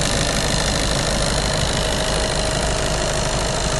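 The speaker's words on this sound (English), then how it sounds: "Engine's been running since we started, so as you can hear, there's no bangs, rattles or anything like that." A 2014 Seat Leon engine idles steadily, a loud, even hum heard up close in the engine bay with no bangs or rattles.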